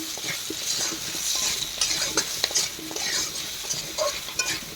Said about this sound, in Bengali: তারপর পরিমাণ মতো লবণ আর হলুদ দিয়ে দেবো, নাড়াচাড়া করে দিচ্ছি।